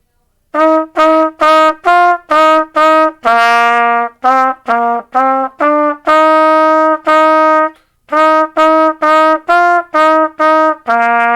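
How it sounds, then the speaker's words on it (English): A trumpet plays the carol Good King Wenceslas alone, a clear run of detached, evenly paced notes with a few longer held tones and a short pause before the final phrase. "Good King Wenceslas sounds like this."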